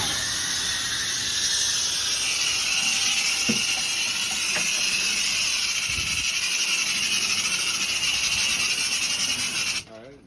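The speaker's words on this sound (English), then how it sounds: "We're gonna go ahead and spray." Steady broadband hiss of a hose nozzle spraying deck cleaner continuously for several seconds, close up, with brief knocks partway through, cutting off abruptly near the end.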